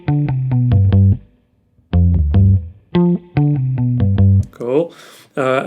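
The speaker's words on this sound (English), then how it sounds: "Let's change the reverb to a spring." Bass guitar notes played in short repeated phrases through a spring reverb effect, with a springy, splashy reverb tail, followed by a brief sung or spoken bit.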